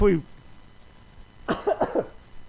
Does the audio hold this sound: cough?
yes